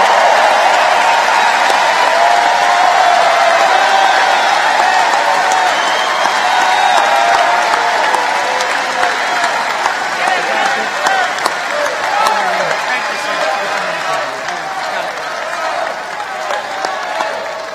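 A large political rally crowd for Donald Trump in Wheeling, West Virginia applauds and cheers in a steady, loud wash of clapping and whoops that carries on throughout, slowly easing near the end.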